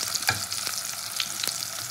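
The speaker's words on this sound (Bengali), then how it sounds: "তো টমেটোটা দিয়ে নাড়াচাড়া করে" Tomato fries in ghee and is stirred, giving a close, bubbly sizzle broken by a few crisp spatula clicks over a couple of seconds.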